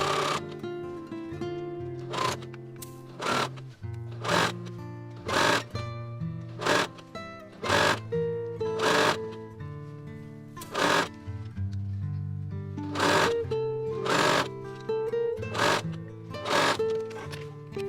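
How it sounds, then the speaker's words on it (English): A home sewing machine runs in short bursts, stitching dress lining to main fabric along a front seam, its rapid mechanical whir stopping and starting repeatedly, close and steady. "base stitch down both sides of the front seam, attaching the lining to the main fabric"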